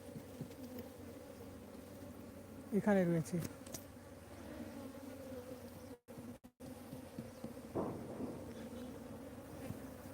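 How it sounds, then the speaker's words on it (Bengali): Honey bees confined in a wooden hive box outdoors give a steady, droning buzz throughout, with a person speaking briefly and a few louder passing whines. "দেখেন এই বাক্সের মধ্যে কিন্তু মৌমাছি রয়েছে"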